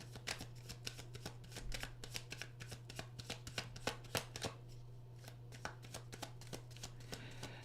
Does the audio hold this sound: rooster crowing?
no